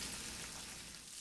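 Bacon sizzling and frying in a pan while cooking for breakfast burritos, a steady, faint, crackling hiss with no talk over it.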